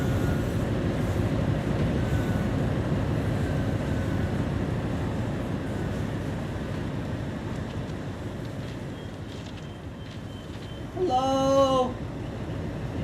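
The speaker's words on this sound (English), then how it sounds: "There's an HST over there!" HST high-speed train in Train Sim World 6 on the Rivera Line, a steady low rumble of rolling stock passing, with a brief chiming tone near the end.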